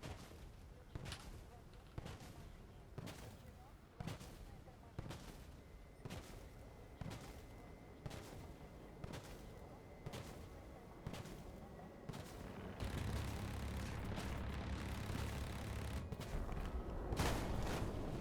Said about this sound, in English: I'm gonna have to let go of some rockets.